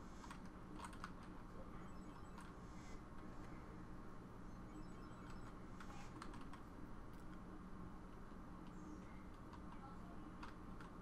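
Fingers type on a computer keyboard while someone sets up RetroPie controls, producing quiet, rapid, irregular key clicks in bursts with short pauses.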